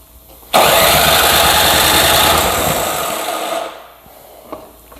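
A small gasoline engine bursts into life and roars loudly up close, then its noise tapers off over a few seconds before a brief clack near the end.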